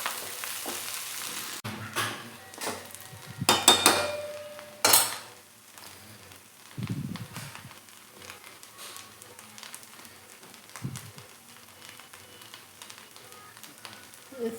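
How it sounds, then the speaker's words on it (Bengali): Rice frying in a pan for breakfast, with a steady sizzle broken by a few louder scrapes and clatters of a utensil against the pan early on, then continuing more quietly with no talking. "আজকে সকালের নাস্তা ফ্রাই ভাত।"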